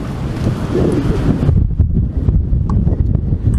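Strong wind roars and buffets outdoors, a loud, gusty rumble that stays close and continuous, with no one speaking.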